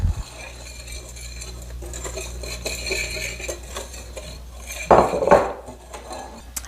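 Salt is mixed into flour in a bowl, giving soft repeated scraping and stirring with utensil-on-bowl contact, plus a couple of louder clinks near the end; no talking.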